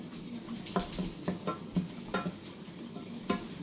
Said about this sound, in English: And you just want to stir in your flour. Start making your roux.